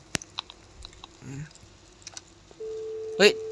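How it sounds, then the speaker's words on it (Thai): A steady phone dialing beep from a Roblox horror game holds for about a second near the end, after scattered soft clicks and a short voice, then a brief electronic burst. "เฮ้ยโทรศัพท์แล้วโทรกดโทรออกได้ กดกดแล้ว มันมีเสียงตืด แล้วก็หายไป"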